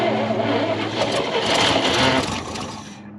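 A 1970 International 4x4 pickup engine runs on fuel poured into the carburetor, a loud steady rumble with a slight rise in revs midway before easing down at the end.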